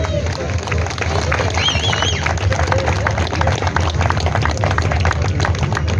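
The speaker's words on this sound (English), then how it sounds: "Another round of applause for Sister Cindy." A crowd at a VOTE NO rally in Adelaide applauds in a steady, dense wash of clapping and cheering, loud and close, with voices chattering underneath.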